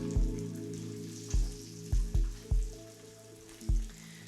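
Eggs fry sunny-side up in a pan with a soft, steady sizzle, broken by a few duller taps and bumps at the pan, close and quiet with no voices.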